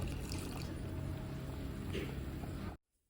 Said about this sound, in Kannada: ಈಗ ಇದಕ್ಕೆ ತೆಂಗಿನ ಹಾಲು ಮಾಡಿಟ್ಟಿದ್ದೇವಲ್ಲ ಅದನ್ನು ಹಾಕ್ತಾ ಇದ್ದೇವೆ